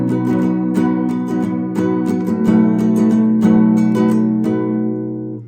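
An acoustic guitar strums the chord changes of the middle section of a song, with steady rhythmic strokes ringing close and clear, alone and ending on a fading chord.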